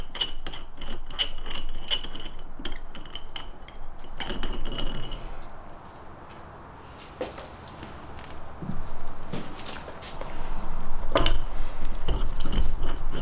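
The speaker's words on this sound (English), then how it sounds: "So I'm taking out the bolts" Metallic clinks and ratcheting clicks come from removing bolts on a Brembo brake caliper of an Evo 9, with bursts of quick ratchet clicking, sharp clinks of bolts set down and a quieter stretch midway.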